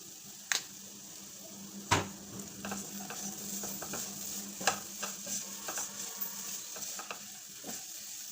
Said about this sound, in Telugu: ఇలాగే వేయించుకుంటూ ఉందాం తిప్పుతూనే ఉందాం మాడనీయకుండా మన దగ్గర ఉండి తిప్పుతూ ఉండాలి